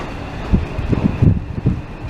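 A British Rail Class 317 electric train passes a station platform at Brimsdown, heard as a series of low rhythmic rumbling thumps from the wheels under a steady airy background.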